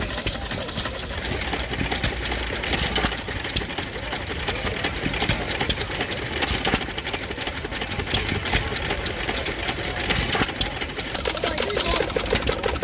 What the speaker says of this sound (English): Here we have a lovely Bradford open crank engine in its working clothes